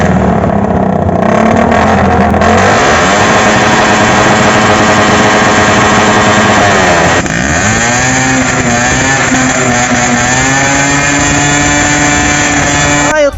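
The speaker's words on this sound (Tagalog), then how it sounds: "Talagang pahawat sa pagbumba ng mga kanya-kanyang mga motor." Several motorcycles rev their engines loudly at a crowded New Year motor show in Malasiqui, Pangasinan, with close, continuous roaring and throttle blips rising and falling over crowd noise and a talking voice.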